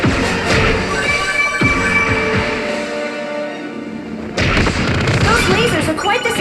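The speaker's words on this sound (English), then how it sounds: "Those lasers are quite the security system." Rapid game weapon fire in Kid Icarus: Uprising, laser blasts within a guarded lunar sanctum, sounding as dense repeated zaps and booms over a music bed, with a brief lull before a loud burst resumes.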